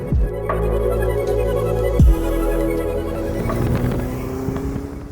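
A Ferrari SF90 Stradale, a roughly 1,000-horsepower hybrid with a petrol engine and electric motors, runs in qualify mode, its loud engine note rising and falling through quick gear changes, close and continuous without speech.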